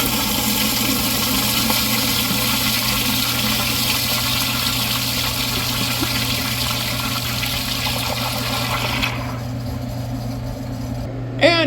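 A first-generation Kohler Wellworth pressure-assisted toilet flushes with a loud, steady roar of rushing water that holds for about nine seconds, then drops off abruptly into a quieter refill hiss with a brief gurgle at the end.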